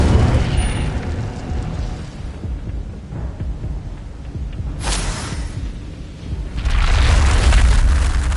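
An Incendio fire spell bursts in Hogwarts Legacy, a deep booming roar of flame with a sharp whoosh midway and a heavy rumbling surge near the end, no talking over it.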